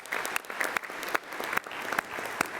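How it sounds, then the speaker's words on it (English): An audience at an annual awards business meeting breaks into sustained applause, dense steady clapping from many hands with a few sharper individual claps standing out, moderately loud and heard alone. "let's just give Wendy a big round of applause"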